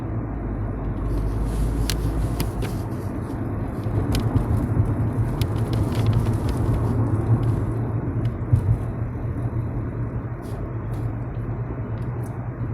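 A car driving on the road, heard from inside the cabin as a steady low engine and road rumble with faint tyre whir, constant throughout with no talking.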